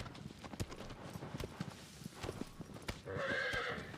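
A horse in the game Shadow of the Colossus clip-clops with scattered hoof steps, then lets out a loud, close whinny near the end.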